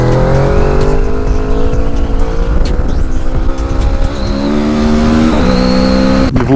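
Kawasaki Z650 small twin-cylinder motorcycle engine revving loudly and steadily close by, its pitch rising and falling through gear changes with a clutch pull, continuous throughout.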